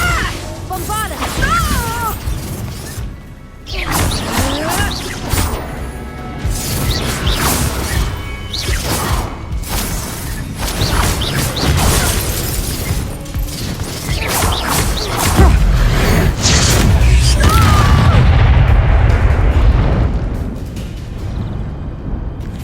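In the Hogwarts Legacy wizard duel, a Bombarda blasting spell erupts in heavy crashing booms and whooshes amid continuous loud combat noise, with voices speaking over the fight.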